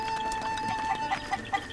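Chickens cluck in a farm area of a video game: a few short, evenly spaced clucks over a steady background tone.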